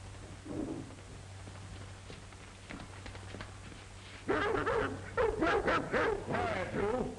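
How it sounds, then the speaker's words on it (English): Dogs bark and whimper in an old film scene: a faint yip early, then from midway a loud, close burst of repeated barks and whining yelps continues to the end over a low hum. "Even the dogs don't like him."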